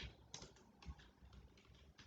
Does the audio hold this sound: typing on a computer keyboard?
yes